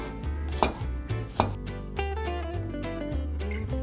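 Green onion is chopped with a knife on a board, a run of quick, evenly paced sharp taps close by, with a couple of louder knocks in between.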